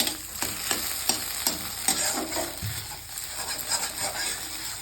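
Food frying lightly in a little oil in a pan, a steady sizzle broken by repeated scraping stir strokes, close and moderately loud with no voices.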